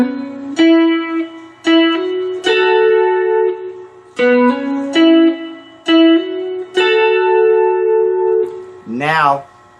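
A 4-string cigar box guitar played slowly, with a series of plucked and hammered-on chord notes that ring and sustain, ending with a brief warbling slide, close and clear with no talk.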